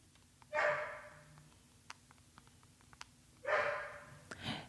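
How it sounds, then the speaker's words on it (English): A dog barks nearby in two loud bursts a few seconds apart, with faint clicks and a low hum in the quiet stretch between them. "Because the dog is barking and it's super annoying."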